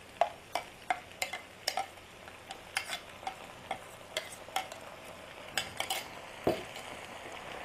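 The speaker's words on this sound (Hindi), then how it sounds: "अब मैं इसको अच्छे से मिक्स कर लूँगी सब्जी के साथ।" A spoon stirs tomato paste into frying soya and parwal vegetables in a pan. Its distinct metallic clinks and scrapes come in an uneven rhythm over a soft, steady sizzle.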